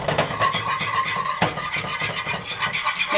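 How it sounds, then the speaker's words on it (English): A whisk scraping continuously through cocoa powder and panna cotta mixture in a pot, a close, rhythmic rasping and rubbing with no pauses. "Make sure to whisk it good to get out any lumps."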